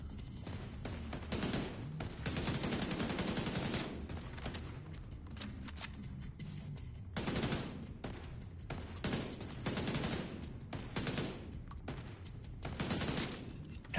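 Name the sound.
gunfire in the video game The Division 2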